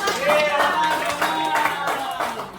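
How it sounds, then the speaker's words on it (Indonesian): A class claps hands at the end of a lesson in a classroom, a short burst of scattered clapping mixed with overlapping voices and tonal background sound. "Tepuk tangan."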